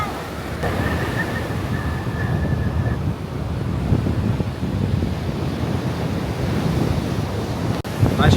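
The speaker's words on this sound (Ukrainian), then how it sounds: "Роздули такі хвилі серйозні." Ocean surf breaks steadily on a wild beach in North Carolina, a continuous loud wash of waves roughened by wind buffeting the microphone, with no voices.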